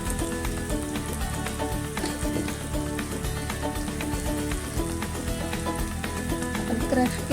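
Asafoetida fries in hot oil for a diet chivda, making a dense, continuous crackling sizzle with faint clinks throughout. No voice is heard over it.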